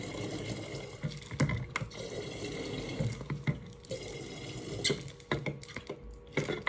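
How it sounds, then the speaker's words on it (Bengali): Rose water poured with a little vinegar into a container at home, making a steady close splashing and trickling stream with small drips and clinks, moderately loud and without talk. "তো দিয়ে দিলাম 4টা গোলাপ জল, একটা ভিনেগার"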